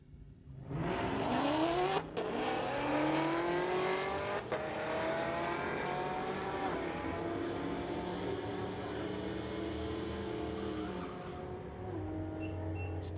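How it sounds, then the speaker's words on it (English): A Chrysler and a 2020 Chevy Camaro ZL1 launch side by side in a street-legal drag race, engines roaring loud and close, then their revving pitch climbs through the gears as the cars pull away down the strip. "Chrysler in the tower lane going against Stephen Kennedy, a 2020 Chevy"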